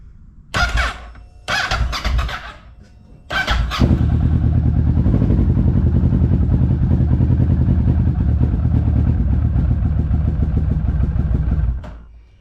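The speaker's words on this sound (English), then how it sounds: "no fuel leaks so far, so let's start it up" A Kawasaki Ninja or KTM 690 motorcycle engine, just after a Keihin fuel pump repair, cranks in three short loud bursts, then catches and settles into a steady, loud, close idle for about eight seconds before cutting off.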